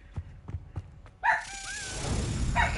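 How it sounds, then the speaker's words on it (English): A dog in the video game Hogwarts Legacy barks several times in short evenly spaced bursts, followed by a louder whimpering yelp over a rising background rumble. "Shut up, dog."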